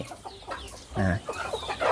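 Domestic free-range chickens cluck in a backyard coop, a short burst of hen calls rising over low barnyard background noise.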